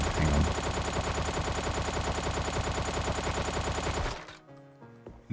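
Dense, rapid automatic gunfire rattles continuously from the VR shooter Sweet Surrender, loud and sustained for about four seconds before cutting off into quieter game sounds.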